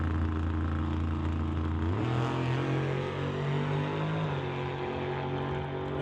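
An Outlaw 275 drag race car at an NHRA Summit ET eighth-mile event makes a loud, steady engine roar that jumps up in pitch about two seconds in as it accelerates down the strip, with no talk.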